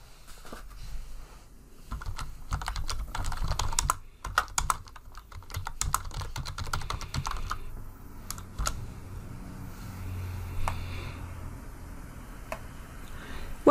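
Fast keystrokes on a computer keyboard as a new folder name is typed, a steady near patter of clicks in bursts with brief pauses, alone without voices.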